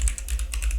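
Quick run of keystrokes on a computer keyboard while working in the Neovim editor: a brief burst of crisp, closely recorded key clicks with no talking.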